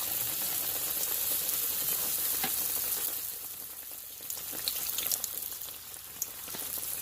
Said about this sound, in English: I just take the spoon and throw the oil on top so that the top cooks just as fast as the bottom